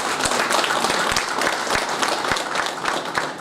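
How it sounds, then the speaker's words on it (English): Crowd at a corporate HR event applauding for an introduced speaker, a brisk wash of clapping with individual sharp claps standing out, fairly close and unbroken. "Big clap for him, please."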